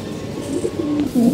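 Soft, low cooing from a red pigeon and a black pigeon close by, a few throaty coos rising and falling over faint background noise.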